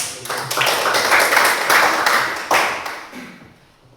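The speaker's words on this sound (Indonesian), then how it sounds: "Kita memberikan aplaus." Applause from a classroom audience, a burst of many hands clapping together for about three seconds before tapering off.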